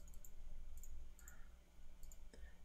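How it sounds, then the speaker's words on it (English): Repeated mouse clicking while repairing ships in the space strategy game Vega Conflict, a few sharp clicks spaced through the clip, faint over a steady low background hum. "You just got to do a lot more clicking."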